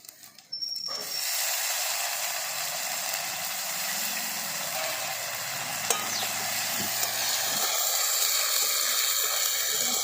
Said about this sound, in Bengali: আদাটাকে ভাজা ভাজা করে নিয়েছি